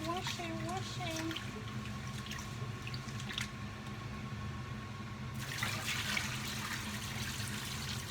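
Japanese rice being washed in water in a pot, with steady swishing and sloshing of water throughout, a short burst of voice near the start and brighter splashing toward the end.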